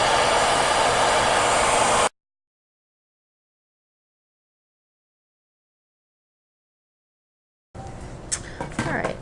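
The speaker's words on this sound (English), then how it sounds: "you guys can go over and grab the hair dryer and you can" Hair dryer blowing on a glued paper collage in a mixed-media art project, loud steady roar for about two seconds, then silence, then a fainter stretch of rustling and handling noise near the end.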